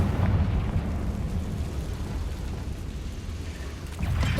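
Blasting spell explosion in Hogwarts Legacy, a loud rumbling burst that swells and decays over several seconds amid a dark chamber fight, with a sharper hit near the end.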